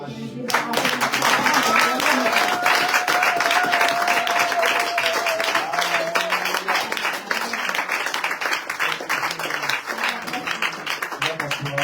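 A church congregation applauds and cheers in acclaim of Jesus, loud sustained clapping with raised voices and a held shout mixed in, continuing steadily for several seconds before easing slightly.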